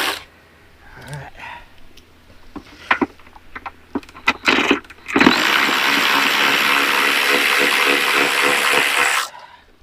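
A Wrist Saver 2000 power ratchet removes bolts, first a few short clicks and knocks, then a loud, steady whirring run of about four seconds that stops abruptly, heard close up.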